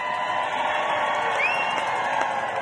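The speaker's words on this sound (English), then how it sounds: "Yes, cheer yourself on." A large outdoor crowd at a Hands Off rally in St. Paul, Minnesota cheers and whoops in a steady, sustained roar, with scattered shouts and a few high whistles rising above it.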